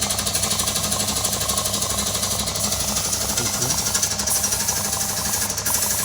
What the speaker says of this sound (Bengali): এদিকে মেশিন চলছে দেখতে পাচ্ছি মেশিনে রঙ হচ্ছে